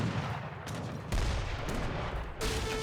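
Gunfire and mortar blasts from an Age of Empires 3 battle between Swedish and Ottoman armies, a steady crackle of musket volleys punctuated by several heavy booming shots, loud and continuous with no talking.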